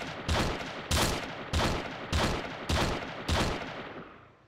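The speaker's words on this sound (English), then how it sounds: "Someone's still shooting." Bursts of gunfire in the zombie survival game Project Zomboid, six evenly spaced loud volleys about every 0.6 seconds, each with a sharp attack and short decaying tail, fading out at the end, no talking.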